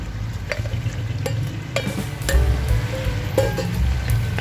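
Diced potatoes, carrots and green peas stirred with pork in an oiled pan for pork igado, a steady sizzle under scraping spoon strokes and occasional clinks, close and fairly loud.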